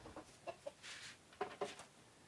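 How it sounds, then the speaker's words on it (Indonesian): A chicken gives a few short, soft clucks in quick bursts, quiet and somewhat distant, with a brief hiss between them. "Itu ayam"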